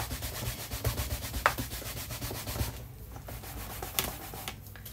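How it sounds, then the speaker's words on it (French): An ink stamp is wiped clean on a cloth or pad, giving a close run of quick rubbing and scrubbing strokes that settles into softer, slower wipes near the end. "Alors, je vais peut-être nettoyer mon tampon."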